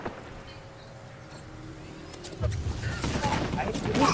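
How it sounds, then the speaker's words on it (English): Apex Legends gunfire on King's Canyon: quiet at first, then a dense burst of rapid shots erupts about halfway and keeps rattling, fairly close and loud, with players talking over it. "He's shooting us."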